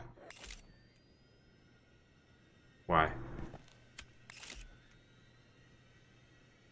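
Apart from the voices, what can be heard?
camera shutter in the video game Visage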